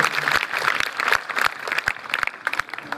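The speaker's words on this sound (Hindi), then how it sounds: "एक बार जोरदार तालियां बजा दो" An audience claps for a teacher, producing a short, moderately loud burst of scattered hand claps with individual sharp slaps standing out.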